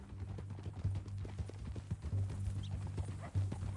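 Horse hooves clip-clopping steadily in Red Dead Redemption 2, a continuous walking rhythm of close, moderate hoofbeats over a low rumbling background.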